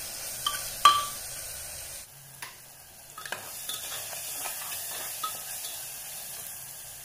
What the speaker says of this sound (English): fry it well